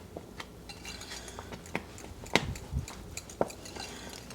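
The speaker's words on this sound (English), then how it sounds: "Then we're going to add our gelatin and stir it to dissolve." A utensil stirs gelatin in a pot on the stove to dissolve it for a vintage jello pie, giving soft scraping and a few sharp clinks against the pot, faint and close with no talking.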